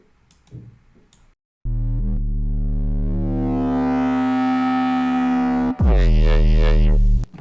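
A sustained electronic bass synth tone with a slowly shifting, sweeping timbre, then a brighter, buzzier note after a brief cut, preceded by faint clicks.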